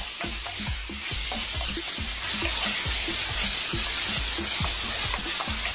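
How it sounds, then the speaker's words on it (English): Smoked bacon frying hard in a pan over fairly high heat, with steady loud sizzling throughout and repeated scraping stirs of a utensil at a quick, regular rhythm; no talking. "So I'm on a fairly high heat. Let's just throw this around and let it go for about 4 to 5 minutes. Keep stirring it."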